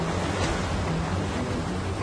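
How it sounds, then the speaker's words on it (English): Big waves crash on a battered coastline during Hurricane Ophelia in 2017, a dense, continuous roar of surf mixed with wind noise. "Not only were coastlines battered by high winds and big waves"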